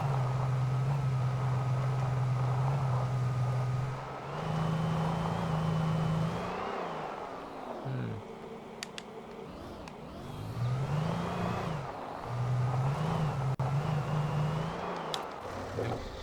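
A vehicle drives in the Alan Wake video game, set at a coal mine, its engine droning steadily and rising and falling in pitch as it speeds up and slows, loud and close throughout with no talking.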